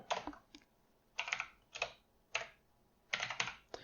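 Bursts of typing on a computer keyboard, quick clusters of crisp key clicks separated by short pauses, close and fairly quiet with no voices.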